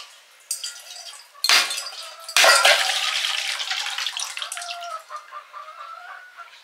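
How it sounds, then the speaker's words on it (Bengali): A coconut is struck open with two sharp, loud cracks about a second apart, followed by hens clucking steadily nearby. "এবারে নারকেলটা ফাটাচ্ছি"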